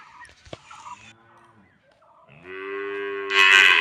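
Cattle on a rural Bengali homestead after days of rain, with cows and calves lowing: a few short calls early on, then a long, loud sustained moo that swells toward the end, close by and with no talk over it.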